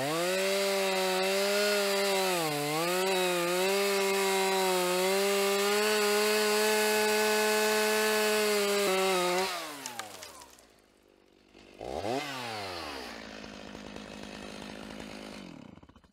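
A Vevor portable bandsaw squares the ends of folded steel angle iron, a loud steady whine with strong harmonics that dips briefly midway, then cuts off and spins down before the motor restarts more quietly and keeps running.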